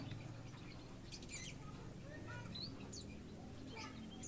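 Several short chirps and whistled calls of a streaked weaver in a mini aviary, scattered over a steady low background rumble, moderately distant, with no talking.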